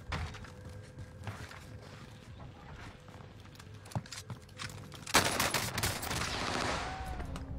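Video game gunfire: after a quieter stretch, a sudden dense burst of rapid shots erupts and carries on loud to the end, with wind-like background noise underneath.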